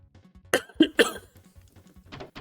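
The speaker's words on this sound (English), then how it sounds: "trying to scratch it with a cough" A man coughs three or four times in quick succession from an itchy throat, close and sharp, then a brief throat-clearing rasp and soft breaths.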